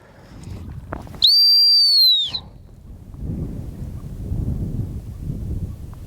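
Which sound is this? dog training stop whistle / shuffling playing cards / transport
dog training stop whistle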